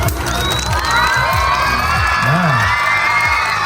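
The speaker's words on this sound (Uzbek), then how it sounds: "Baqir chaqir qarsak chomasanglar bo'lmaydi bunga." A graduation ceremony crowd cheers and shouts loudly and continuously, with whoops and children's shrill voices rising over a dense, sustained roar of celebration.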